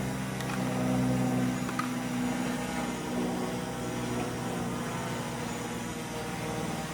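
Steady, continuous motor hum of a small drone during an automatic takeoff, holding a constant drone-like tone throughout with no speech.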